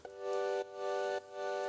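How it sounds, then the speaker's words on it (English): A plain synth sustains chords that pump as they are heavily sidechained to a kick, each chord swelling back in after sharp dips roughly every half second, quiet and alone. "I have this synth, which is more of a normal synth sound, playing some chords"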